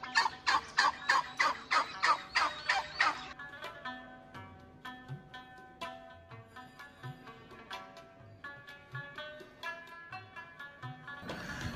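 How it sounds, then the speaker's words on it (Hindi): Turkeys on a turkey farm gobble in a loud rapid burst of repeated calls, followed by scattered nearer and farther gobbles and clucks with no talking. "खूबसूरती से नाचते टर्की बर्ड या फिरू नहायत खूबसूरत दिखाई दिया"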